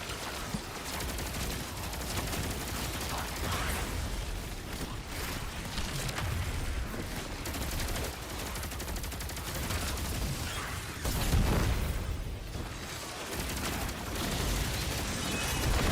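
Continuous gunfire in the video game Destiny 2 while shooting a mirror, dense rapid shots and booming impacts running nonstop, loud and busy with brief surges, no talking over it.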